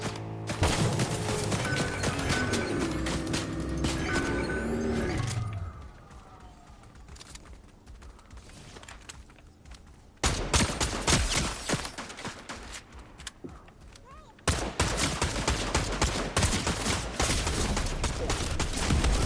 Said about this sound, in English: Ah, someone else is shooting me.